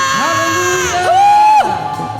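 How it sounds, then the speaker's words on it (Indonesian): A church congregation cheers and shouts hallelujah together at a GBI Sunday worship service, a loud sustained crowd roar with a prominent rising and falling voice ringing over it for about two seconds. "Sorakan haleluya."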